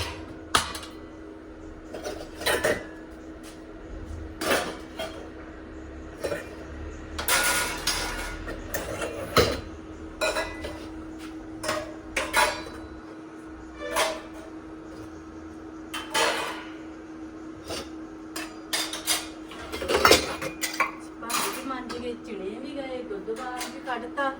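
Dishes, pots and pans clattering in a home kitchen, scattered sharp clinks and knocks at irregular intervals over a steady background hum, with some voices faintly around.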